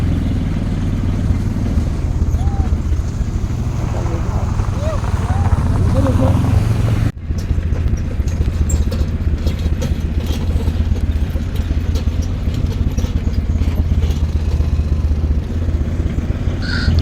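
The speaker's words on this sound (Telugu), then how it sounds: "బాగుంది ఏటీవీ రైడ్ కూడా, సాటిస్ఫై అయ్యాము." An ATV runs on a dirt track in Solang Valley, its engine droning steadily and close throughout with rattling clatter, an abrupt jolt partway through, and voices talking over it.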